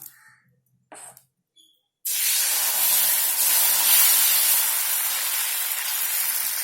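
South Indian murungaikeerai adai dosa batter hits a hot dosa griddle with a sudden loud, steady sizzling hiss that continues for several seconds, after a few faint handling sounds.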